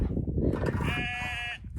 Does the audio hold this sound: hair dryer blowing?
no